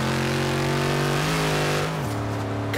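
A Dodge Demon's engine, a Fast 8 build in the Forza Horizon 3 racing game, revs hard and steadily, the pitch climbing and then dropping as it shifts, loud and close with no talk.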